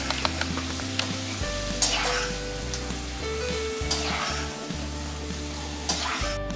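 Peanuts fry in hot oil while making kanda poha, a steady close sizzle with light stirring clinks over a low hum, unbroken for several seconds.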